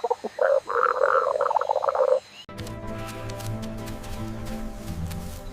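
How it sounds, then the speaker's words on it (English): A frog croaks in a rapid, loud run of rasping calls for about two seconds, followed by a different, steadier hum of sound. "It's a frog."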